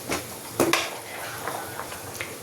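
Potatoes being stirred in a cooking pot of simmering curry with water added, giving a few scattered scrapes and light metal clinks of utensil against the pot, fairly close and with no talk.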